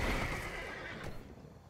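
Horse neigh from the Magic Arena card game, a loud whinny that fades out, with a brief clip-clop sound toward the end.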